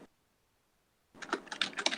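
Rapid typing on a computer keyboard while writing C# code, a quick burst of close, crisp key clicks that starts suddenly after a second of near silence.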